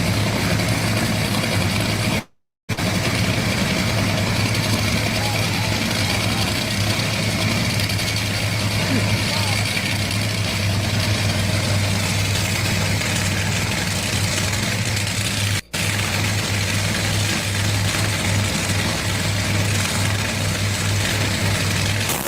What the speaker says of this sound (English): Nothing is as loud as these cars are.